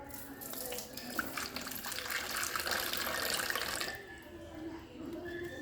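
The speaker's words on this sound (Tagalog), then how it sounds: "lalagyan ko lang ng tubig yan" Water runs steadily for about four seconds, like pouring into a container, then stops, leaving faint background noise.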